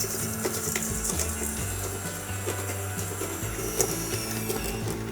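Butter and Demerara sugar are whisked for cake batter in a home kitchen, giving a continuous, steady mechanical whir with faint scraping, heard alone and without pauses.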